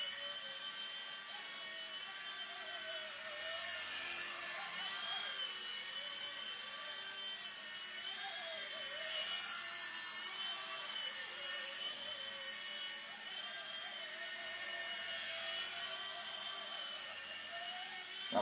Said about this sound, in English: this is a very fast helicopter. It'll scare you sometimes, but once you get it, it's one of the most fun little helicopters for indoor flight I've ever flown